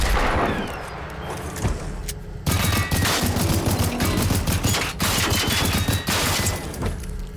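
Rapid bursts of gunfire in the video game Generation Zero, crackling volleys that stop briefly and then resume in a dense, continuous fusillade, loud and close with no talking.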